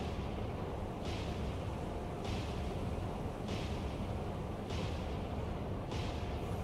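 Rapid-fire naval deck guns of roughly 5-6 inch caliber in the naval warfare game Cold Waters, with about five evenly spaced booming shots over a steady roar of background noise.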